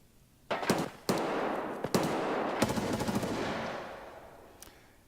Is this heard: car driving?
no